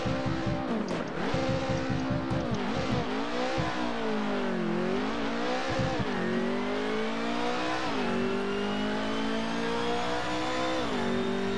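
A BMW engine in the racing game Assetto Corsa revs hard and steadily, with the pitch climbing and dropping between gear changes and a brief tire squeal. The sound is loud and continuous, with no talk over it.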